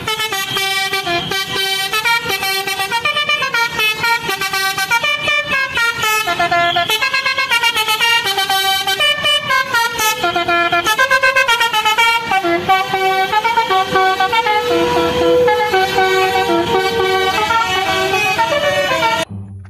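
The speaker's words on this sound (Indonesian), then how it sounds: "kali ini ada bus Winspector teman-teman" Horns of a Winspector bus sound loudly and continuously, a sustained layered musical honking melody of shifting tones running for nearly twenty seconds without pause, close by and dominating the scene.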